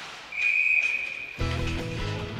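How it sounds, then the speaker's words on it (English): Referee's whistle blown at a high school ice hockey game between Churchville-Chili and Brockport, one long shrill blast over arena noise, followed by crowd and music. "we do have a whistle blowing"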